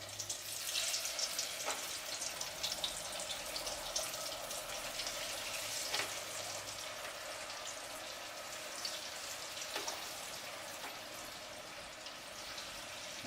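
Pre-cooked baked potatoes deep frying in hot oil for Sunday brunch, a steady dense sizzle and crackle running throughout at close range, with occasional louder bursts and no talking.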